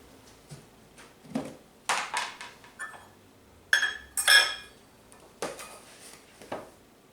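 Sugar is stirred into brownie batter with butter in a bowl, making irregular scrapes, taps and clinks of the utensil against the bowl, with a few louder bright knocks in the middle. No voices are heard.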